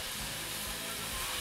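Tequila chicken cooks in a pan with a soft, continuous sizzle and steamy hiss, quiet and even throughout with no distinct pops.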